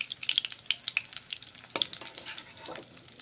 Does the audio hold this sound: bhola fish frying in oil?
yes